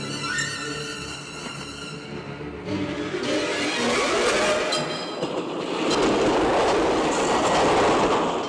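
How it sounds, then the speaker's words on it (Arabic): A train passes along railway tracks, building from a rumbling approach into loud, close clattering of wheels on rails with faint squeals, continuous throughout with no talk. "طيب القطر خلاص عدى."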